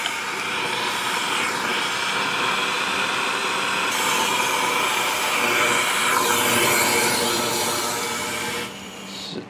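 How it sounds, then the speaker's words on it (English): A vacuum draws welding flux off a freshly laid series arc weld bead, a loud, steady, airy roar that runs unbroken for several seconds before cutting off. "we're gonna go ahead and vacuum the flux off of it."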